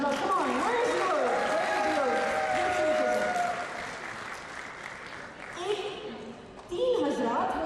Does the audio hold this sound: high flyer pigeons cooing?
no